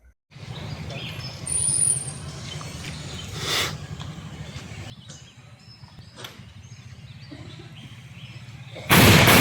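Firecracker blasts are set off as an offering at Kottanacheri Mahakshetram temple near Vellur: a few scattered, distant-sounding bangs over a steady low hum, ending with a sudden loud blast.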